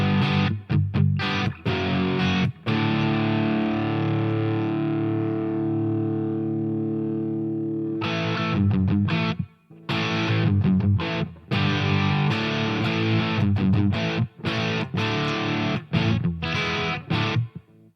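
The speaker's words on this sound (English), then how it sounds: "So, this is the basic Plexi sound." Electric guitar through a Marshall Plexi patch on a GE300 multi-effects unit, with crunchy distorted classic-rock chords and riffs, a long ringing chord around the middle and choppy strummed phrases, loud and close with no talking.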